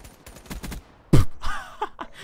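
Gunfire in Black Ops 3: a quick run of muffled shots, then a louder close blast with echoing tails, under faint speech.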